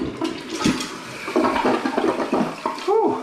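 A newly installed Kohler toilet flushes close by, a loud rushing swirl of water that gurgles and drains over about three seconds, with a voice speaking briefly over the tail of the flush.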